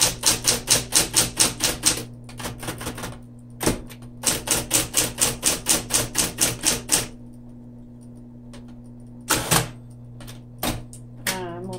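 Coral 1970s Smith-Corona Electra 220 electric typewriter typing with red ribbon, crisp close key strikes in even bursts separated by pauses, steady motor hum underneath, a final quick carriage-return zip, no talking.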